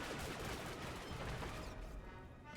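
Dense rapid gunfire crackles in Star Wars: The Old Republic, a loud sustained volley of blaster shots that thins out toward the end.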